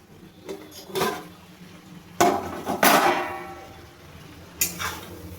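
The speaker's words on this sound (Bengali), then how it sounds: "এবার ঢাকাটা খুলে দেখে নেব।" Lid lifted off a cooking pot of small mola fish chorchori, a few sharp metallic clanks and scrapes spaced apart against a quiet kitchen background.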